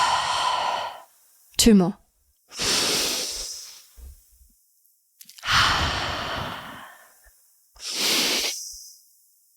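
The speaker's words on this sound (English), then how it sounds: "In through the nose. Out through the mouth." Deep breathing exercise: several slow breaths drawn in through the nose and pushed out through the mouth, each a loud airy sigh separated by short pauses, with a brief spoken count between them.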